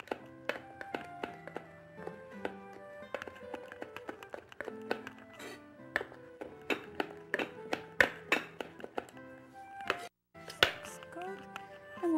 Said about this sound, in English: So I'll chop the rosemaries real fine.